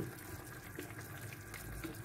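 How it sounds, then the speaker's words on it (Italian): Hot water poured into a cooking pot while long zucchini with tomato and potatoes cooks, a soft continuous splashing gush at low volume. "vedo che l'acqua è scesa un po' troppo, quindi aggiungo dell'altra acqua"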